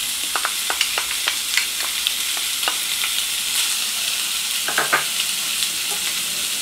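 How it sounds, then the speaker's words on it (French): Meat and carrots hit a pan of browned frying onions, giving a steady sizzle with repeated sharp scraping and clattering stir strokes, close and fairly loud, no voices. "Maintenant, je vais introduire la viande, les carottes"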